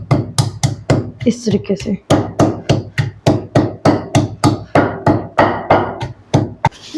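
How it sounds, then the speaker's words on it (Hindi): A wooden stick pounds washed dried pomegranate seeds in a mortar, producing a steady run of about two dozen loud, close, evenly spaced thuds, with a brief spoken phrase partway through. "अब हम इसको डंडे की मदद से इसको पीस लेंगे"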